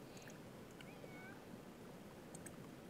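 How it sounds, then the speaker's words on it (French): Cats meowing in The Sims 4 video game, faint short mews scattered over a steady background hum with no talk. "Oh, les minouches! Comment ça va, les minouchettes?"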